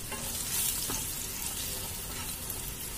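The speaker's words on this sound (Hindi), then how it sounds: "सभी मसालों को अच्छे से भून लेते हैं।" Spices, tomato, onion and cashews fry in a pan for a cashew mushroom masala, a steady broadband sizzle with a faint scrape of stirring near the middle, close and continuous with no talking.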